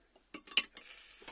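A bottle of Thistly Cross Whisky Cask cider being opened, heard as a few quick, faint glassy clinks and clatters in close succession, with no talking.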